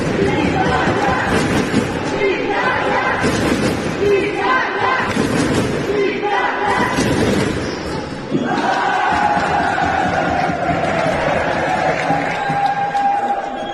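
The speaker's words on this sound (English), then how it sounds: "Little battle of the crowd there between the Italian and Swiss supporters." Italian and Swiss supporters chanting against each other at a men's team sports match, loud rhythmic bursts of massed chanting in waves, followed by a sustained roar with a steady horn-like tone, and a commentator talking over it.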